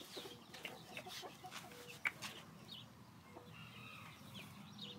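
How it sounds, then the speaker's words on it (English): Chickens in a backyard pen give soft, scattered clucks and short calls at a distance, quiet and intermittent against faint outdoor background noise, with no one speaking. "Look at all the chickens."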